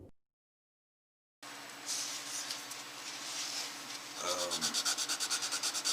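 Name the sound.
sanding a guitar fretboard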